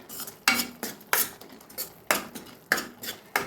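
A spoon stirs cumin powder and salt into chickpea chole masala in a metal pan, making about seven sharp clinks and scrapes in an uneven rhythm, close and fairly quiet, with no talking.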